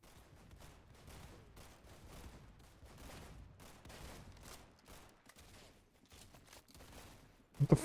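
Video game gunfire rattles faintly in a rapid series of short bursts, soft and distant throughout, with a louder sharp shot at the very end.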